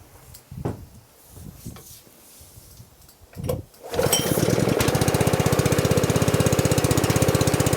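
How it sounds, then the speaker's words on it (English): A cold, old pressure washer engine is pull-started after a few rough tugs and catches, settling into a loud, steady, rapid chugging idle close by. "It'll help the engine start easier."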